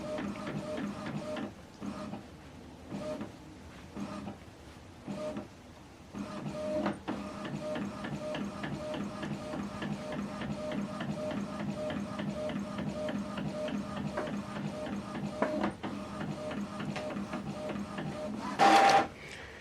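An Epson printer prints a photo sent from a phone, giving a run of close mechanical whirs, clicks and shuffling feed sounds with brief pauses and a sharper burst near the end.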